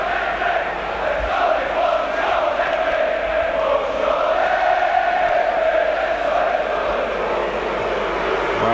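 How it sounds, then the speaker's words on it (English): Leeds United football crowd at a match against Swindon Town chanting for player Jon Hendry, a sustained, loud, droning mass of voices filling the stadium without a break. "there's only one Jon Hendry is the crowd's message"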